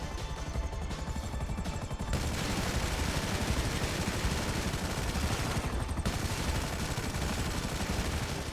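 Savage attack helicopter's guns pour continuous rapid fire into an armored Pyro jet in GTA 5 Online, a dense, loud, unbroken roar of automatic shots lasting throughout, with a brief dip in intensity near the start.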